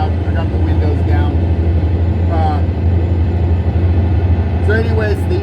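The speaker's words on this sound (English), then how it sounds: "The traffic's kind of loud. I got the windows down." Loud road traffic pours in through open car windows during a drive near Kansas Motor Speedway, a steady, heavy low rumble with occasional passing swells, while someone talks over it.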